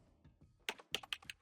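Keys on a computer keyboard clatter in a short burst of four or five crisp taps, close and quiet, with no talk.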